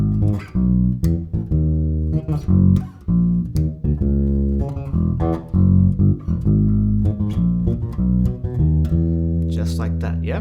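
An electric bass plays a disco octave line, plucked notes jumping between low and high octaves in a tight, syncopated repeating phrase, loud and close with no other instruments.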